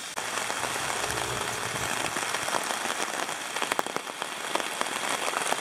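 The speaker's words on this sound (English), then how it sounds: "it's raining hardcore" Steady, dense rain drums on a tent rainfly during a downpour, a continuous close patter with scattered sharper drop hits throughout.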